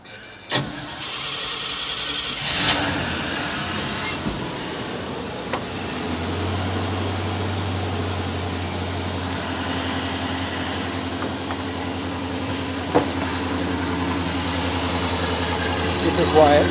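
A Chevy K10 truck on its stock quiet exhaust starts and settles into a steady, low, even idle that hums close by for most of the stretch, with a few clicks and knocks over it.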